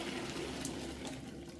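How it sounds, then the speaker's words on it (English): Water is poured out of a cooking pan, a steady, continuous splashing rush lasting a couple of seconds, close and moderately loud. "Now I'm taking the pan, I'm just dumping the water out."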